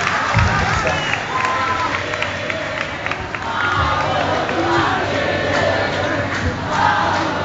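A concert audience in an auditorium applauds and cheers loudly and steadily for a guitarist, with shouts rising out of the dense clapping throughout.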